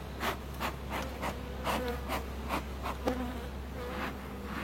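Honey bees buzz around hive frames during a summer honey harvest, a steady drone with bursts of louder passes as individual bees fly close, no voices.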